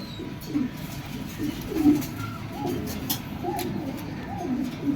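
Soft, repeated pigeon coos rise and fall in low murmuring phrases, close by, over a faint background hum.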